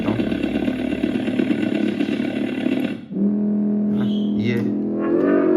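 An Ola Move OS3 electric scooter switched into Bolt mode produces a loud synthetic engine-like drone. It cuts out abruptly midway, then settles into a lower steady hum with a few short electronic chirps.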